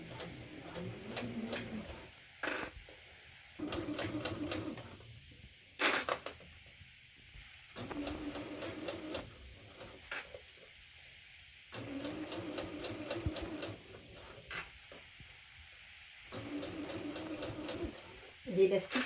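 A sewing machine stitching elastic onto boxer shorts, several bursts of fast rhythmic mechanical whirring and ticking separated by pauses, with a few sharp clicks between runs and someone talking quietly at times.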